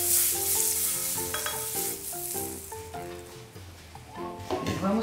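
Butter sizzles in a non-stick frying pan while being spread and stirred, a bright close crackle with clinks of a utensil against the pan and a musical tone playing underneath.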